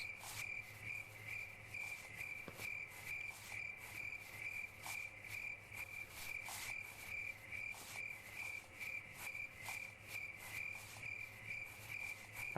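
A loud, continuous chorus of crickets chirps in rapid repeating pulses, close and steady for the whole stretch, with no talking.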